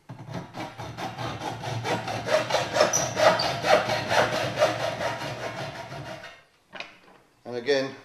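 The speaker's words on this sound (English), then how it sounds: "cut with the raised blade on the waste side" Hand saw rasping through a car body panel clamped in a vise, a steady run of back-and-forth strokes close up that stops abruptly, followed by a brief burst of speech.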